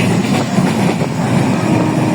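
A fast passenger train crosses a bridge, heard from on board as a loud continuous rumble with rapid rattling wheel clatter and a faint metallic squeal, steady throughout with no voices.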